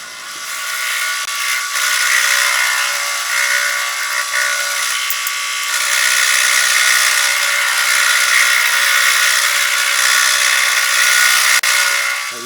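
A power tool grinds steadily into a weld on the swivel of a log grapple, cutting to free the shaft; a loud, continuous high-pitched whine that runs nearly unbroken for the full stretch, with a slight shift in pitch partway through.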